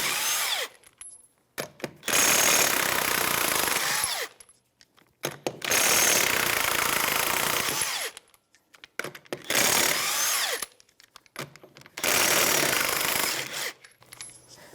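Impact wrench with a 21mm socket removing the lug nuts from a rear wheel of a 2013-2018 Toyota RAV4, four loud close bursts of rattling hammering, each about two seconds, separated by short quiet gaps with faint clinks of nuts.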